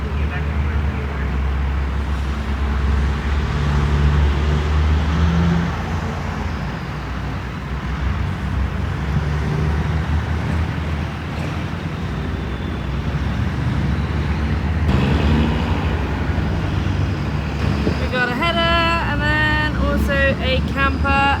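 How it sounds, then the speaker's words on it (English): Service truck hauling two combine headers on its back rolls past in a long convoy, a steady road rumble of heavy traffic, with people talking over it. "Service truck number 1 with the 2 headers on the back."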